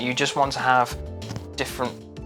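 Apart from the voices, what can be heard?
No distinct noise like a dog, phone or traffic.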